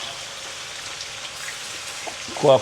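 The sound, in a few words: chicken frying in a pot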